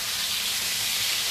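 Garlic, ginger, onions and pepper hit a hot pan, giving a steady, loud hissing sizzle that fills the whole moment with no talk over it.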